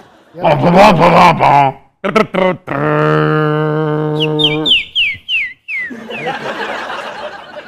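A voice imitates a whistle with a sustained tone and a run of quick, sliding whistle-like chirps, set among other vocal sounds and chuckling.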